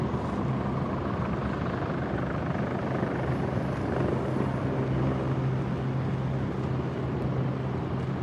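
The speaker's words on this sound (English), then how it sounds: "Helicopter landing at the Wan Chai Convention Center." A helicopter drones continuously with a throbbing rotor chop, steady and fairly loud from some distance as it lands at the Wan Chai Convention Center by Hong Kong harbour, with no one speaking.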